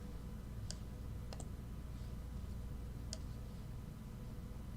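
Quiet typing on a computer keyboard during live algorithmic trading, a few sparse, sharp key clicks heard faintly over a steady background hiss, with no talking.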